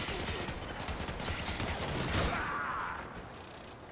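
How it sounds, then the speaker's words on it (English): Bursts of gunfire in the video game Warframe, rapid rattling volleys layered over a busy game soundscape at moderate loudness, without speech. "I hear gunshots, but I don't see where they are."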